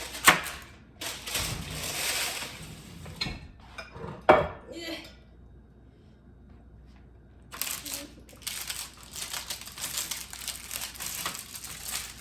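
A metal baking sheet is handled in a kitchen, clanking and rattling close by. A sharp clink comes in the middle, and a steady rustle and clatter follows, with a person talking over parts of it.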